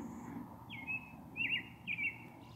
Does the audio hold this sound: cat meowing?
no